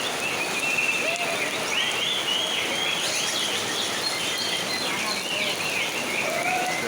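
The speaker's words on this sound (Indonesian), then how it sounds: "Cuaca diguyur hujan." Steady heavy rain pours down outdoors at a bird-singing contest ground, a dense constant hiss throughout, with birds chirping faintly over it and voices in the background.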